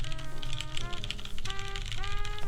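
Typing on a custom mechanical keyboard from a Syryan Monte Bianco build: rapid, closely spaced key clacks in a continuous flurry, near and crisp, with bright tones of music playing underneath.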